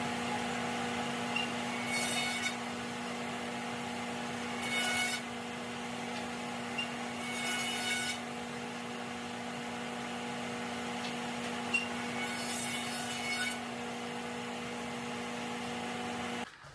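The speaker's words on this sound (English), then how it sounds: "So we're going to do that on the jointer." Boards are flattened on a woodworking jointer: a steady motor hum runs throughout, broken by four short bursts of rougher cutting noise as stock passes over the knives.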